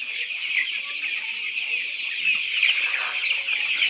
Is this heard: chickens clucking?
yes